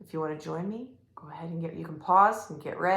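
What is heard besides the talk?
No distinct noise like a dog, phone or traffic.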